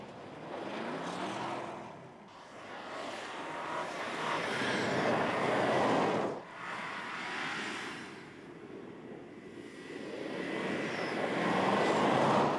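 A BMW X1 xDrive is driven hard on a closed-course road with driver aids off and the gearbox in manual mode. The engine roars loudly and continuously, rising and falling with shifts and throttle lifts.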